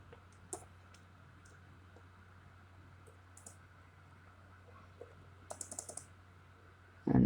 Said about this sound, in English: So we can type here